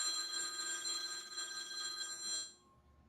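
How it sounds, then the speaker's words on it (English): A telephone bell rings in a house, a bright steady electronic trill that continues for over two seconds and then abruptly stops, leaving near silence. "Answer your phone."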